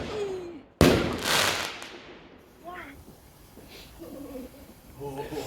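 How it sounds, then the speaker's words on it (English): A firework rocket bursts with one sudden loud bang followed by crackling and fizzing, then fainter pops and whistles trail off in the distance as people talk nearby. "Got some more rockets on the way."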